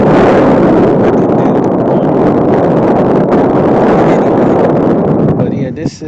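Strong wind buffeting a microphone outdoors at an abandoned strip plaza on the east side of Columbus in Reynoldsburg, a loud continuous roaring rumble that fades slightly at the very end.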